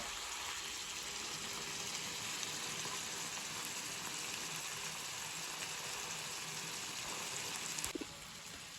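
Leftover chicken cooking down in a pan until the oil rises, giving a continuous soft sizzle and bubbling hiss that holds evenly throughout, with a small clink near the end.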